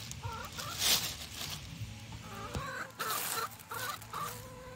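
Several chickens cluck and murmur nearby in a steady, overlapping chatter, with occasional rustling and scratching sounds.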